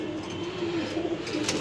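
Racing pigeons coo in a low, steady, throaty murmur that runs through the whole short stretch, close and moderately loud, with no talking.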